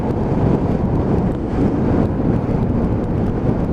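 Wind buffets the microphone on a moving Honda Dylan 125cc scooter on a breezy day, a loud, dense low rumble that continues without a break.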